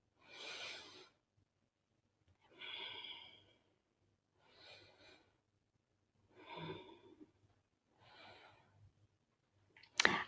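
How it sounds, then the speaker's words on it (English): Slow, deep breaths during a calming bedtime yoga stretch: five long breathing swells spaced about two seconds apart, close and soft with a breathy hiss, then a brief sharper sound at the very end. "Just taking a couple of deep breaths here."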